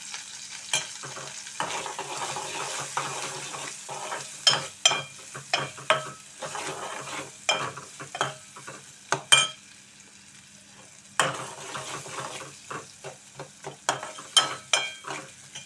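Onions sizzling in hot oil in a pan with dried shrimp, stirred with repeated sharp scraping strokes over a steady frying hiss, fairly close, with a brief quieter pause midway.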